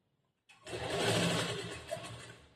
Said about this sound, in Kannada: ಜೋಡಿಸ್ಕೊಂಡಾದ್ಮೇಲೆ ಮತ್ತೆ ಸ್ಟಿಚಿಂಗ್ ಸ್ಟಾರ್ಟ್ ಮಾಡಬೇಕು